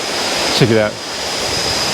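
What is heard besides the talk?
hotel's private waterfall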